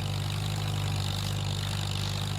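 A tractor engine in Farming Simulator 25 drones steadily while mowing, a constant low, rumbling hum with no change in pitch or speed across the short stretch.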